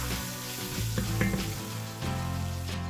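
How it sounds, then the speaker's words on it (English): Ground beef and spices toast in a pan for taco soup, giving a steady close sizzle with occasional scraping stirs and a soft knock of the utensil. "Stir everything together and let the spices toast for about 30 seconds"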